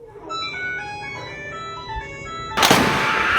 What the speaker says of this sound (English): changing the note of your warning speakers to sound like a Nokia